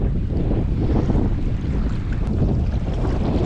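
Strong wind blows across open sea during kayak fishing off the UK coast, buffeting the microphone in a continuous loud rush with water noise beneath and no voices.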